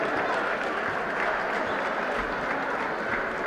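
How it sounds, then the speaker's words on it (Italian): Sustained crowd applause for the Italian Red Cross local committee at a tournament award ceremony, dense, steady clapping that fills the whole stretch with a faint murmur of voices underneath. "Un applauso alla Croce Rossa che sta presente a tutti gli eventi di questo torneo."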